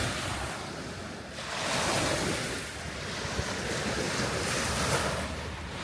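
Small waves splash steadily against a lake shore in New Zealand, a continuous broadband wash with surging swells and gusts of wind buffeting the microphone, close and fairly loud with no voices.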